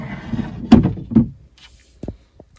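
Sliding doors on a closet storage cabinet are pushed along their track, giving a few close scraping rumbles followed by a pair of sharp knocks as a door comes to a stop.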